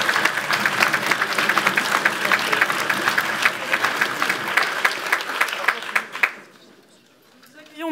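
An audience applauds after a speech at a parliamentary debate championship final, with loud sustained clapping and a few sharp individual claps, then a fade into near silence before a voice begins.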